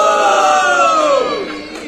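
A crowd at a Brazilian freestyle rap battle roars, cheering and shouting together in one loud sustained burst of voices that trails off after a couple of seconds.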